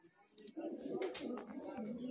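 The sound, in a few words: Giribaz pigeon cooing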